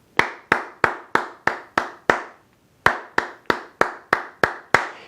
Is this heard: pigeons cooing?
no